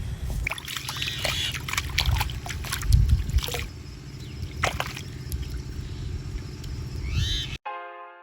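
Water trickles and sloshes steadily while a beetroot and a carrot are rinsed outdoors by a roadside, a moderately close, continuous splashing with a few louder surges.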